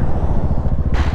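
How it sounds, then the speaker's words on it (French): A Husqvarna 701 single-cylinder motorcycle engine throbs loud and close under braking, a steady low pulsing with a burst of rushing wind noise near the end. "On va tester le freinage."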